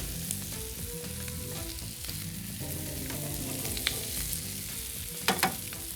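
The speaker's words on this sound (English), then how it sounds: "we're just gonna turn these scallops again" Scallops fry in a hot pan with a steady close sizzle, mixed with clinks and scrapes as they are turned, and a few sharper crackles toward the end.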